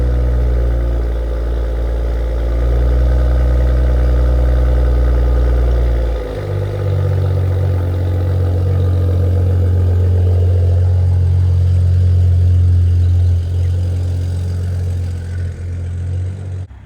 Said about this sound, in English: Let's get a little cold start and get started.